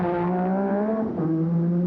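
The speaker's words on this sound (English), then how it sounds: "as he roars away there, that's him in good shape as he exits pit lane without any drama" A 1987 Formula 1 car at the Brazilian Grand Prix roars out of the pit lane, its engine a loud, steady, close howl that briefly dips in pitch and then climbs again as it accelerates away.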